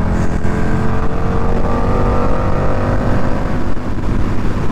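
A motorbike riding through slow city traffic near an airport terminal, its brakes failed so it slows on engine braking only; a steady, loud engine drone with traffic noise runs throughout, no talking.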